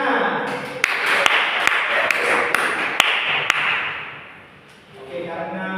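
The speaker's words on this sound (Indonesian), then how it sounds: "Tepuk tangan" An elementary school class in a social studies lesson claps together: a run of sharp, evenly spaced claps over a noisy room, fading out toward the end before murmuring returns.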